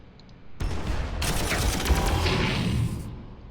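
Mortar fire in the strategy game Warhammer 40,000: Armageddon lands as a dense, loud volley of overlapping bursts and crackling impacts lasting a couple of seconds, then fades.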